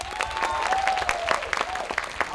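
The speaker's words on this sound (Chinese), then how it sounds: "再给他一个掌声好不好？" An audience at a university evening concert claps steadily for an unplugged band's singer, a dense patter of many hands with some sharper individual claps, fairly close.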